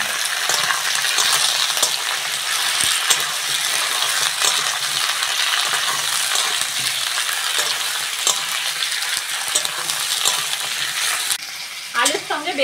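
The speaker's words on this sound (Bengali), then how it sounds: "আলুর সঙ্গে বেগুনটাও ভালো করে ভেজে নেব।" Cut brinjal and potatoes fry together in a pan, a loud steady sizzle broken by scraping stirs and clinks of the utensil, close up and with no talk.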